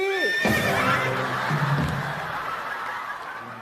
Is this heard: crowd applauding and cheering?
no